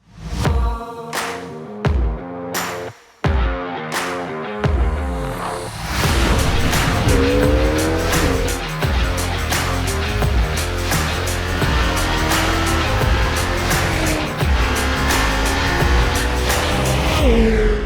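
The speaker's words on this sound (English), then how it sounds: "I am going to try out what is possibly the most anticipated super sports car of the year, the Lamborghini Temerario" Lamborghini Temerario twin-turbo V8 supercar on the Estoril Circuit: sharp revving bursts with crackling gear changes, then a loud sustained engine roar climbing and shifting through gears, close and continuous.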